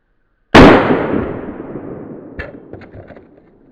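A single loud, sharp shot from a tiny revolver fired into a deck of cards, a sudden close crack with a long decaying ring-out, followed by a few faint clicks and rattles.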